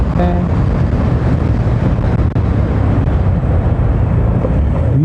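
Strong wind buffets the microphone while riding a bike through open air outdoors, a continuous loud low roar and rumble with gusty fluctuations filling the whole clip.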